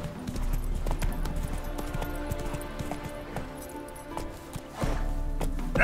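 Hooves of Roach, the horse in The Witcher 3, clip-clop in a steady trotting rhythm, close and clear over a game soundscape.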